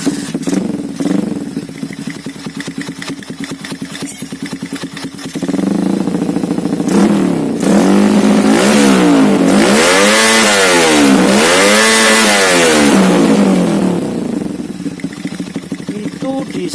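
A KLX motorcycle engine fitted with an aftermarket CDI starts and idles with a rapid, close thumping, then revs repeatedly in rising and falling sweeps before settling back, loud throughout.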